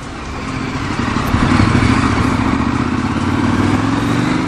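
A KTM 1290 Super Adventure R being ridden, its engine droning loud and steady close by with a gradually rising pitch and wind rush over it.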